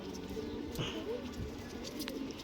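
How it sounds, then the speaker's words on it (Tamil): Pigeons coo at a temple, a few soft low rounded calls repeating under a steady hum of outdoor ambience, with faint voices nearby. "புறா கத்துது, சவுண்டு கேட்குது."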